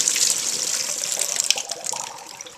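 Water drains and splashes from cut potatoes being prepared for boardwalk fries, a steady close pouring hiss lasting a couple of seconds and tapering to drips near the end.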